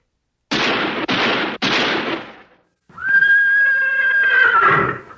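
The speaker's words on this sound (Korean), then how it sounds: "저 총소리다!" Three sharp, booming gunshots ring out in quick succession during a staged historical battle reenactment at a festival in Jinju, South Korea, followed by a horse's loud whinny.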